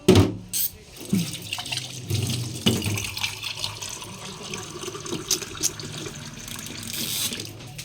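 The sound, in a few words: water poured into a pot while cooking mussels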